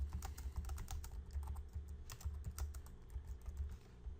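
Continuous typing on a computer keyboard while a new real estate listing is entered, a brisk and fairly quiet patter of key clicks running throughout with no talk.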